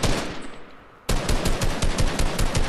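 Rapid automatic gunfire in the Fortnite video game, a loud sustained burst of evenly spaced shots that starts abruptly after a quieter stretch of background noise.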